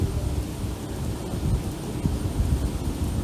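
Monsoon rain falls hard, with deep rumbling thunder rolling beneath a continuous wash of downpour. The sound is loud and steady over a few seconds, and no one speaks.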